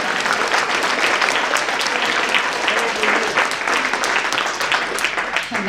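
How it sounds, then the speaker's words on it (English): An audience at an awards ceremony for language students applauds throughout, dense and steady clapping with scattered voices underneath. "maybe we can all give her a round of applause"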